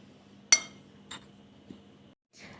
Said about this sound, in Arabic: هجيب معلقه كده واقلبهم كده مع بعض كويس جدا اهو